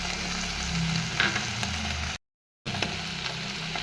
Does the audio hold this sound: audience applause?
no